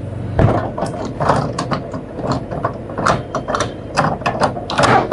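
A home printer works through cartridge setup with a busy run of mechanical whirring, clicks and ratcheting gear movements, close and fairly loud, with no speech.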